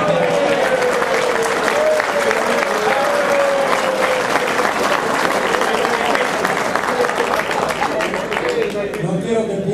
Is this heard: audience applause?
yes